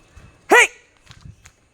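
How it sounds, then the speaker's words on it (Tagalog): A dog gives one short, sharp bark close by, followed by faint shuffling and footstep-like sounds. "Kaninong aso to?"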